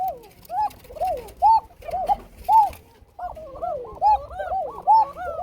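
A male fancy pigeon coos close by in a steady string of about eight rolling, throaty calls spaced under a second apart, clear and alone with no voices.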